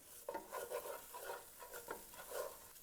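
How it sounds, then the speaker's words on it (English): Chopped garlic sizzling in a hot pan for chicken noodle soup while a spoon stirs it, with soft repeated scraping strokes over a steady close fry. "Let's throw this in the pan. Just gonna mix this around for a couple minutes here."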